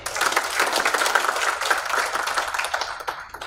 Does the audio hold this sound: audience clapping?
yes